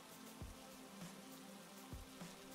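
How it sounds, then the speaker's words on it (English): Rain falls steadily as a soft, constant hiss, faint and far-off in tone, with a few sharper drip-like taps scattered through it. "Aw, it's raining on our wedding day."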